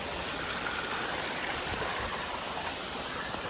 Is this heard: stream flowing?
yes